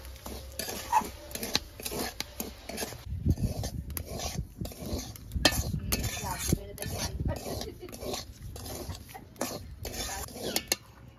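Semolina being stirred and roasted in a pan for sujir halwa, repeated scraping and rubbing strokes of a spoon against the pan at an uneven rhythm, close and fairly quiet, with faint sizzle underneath.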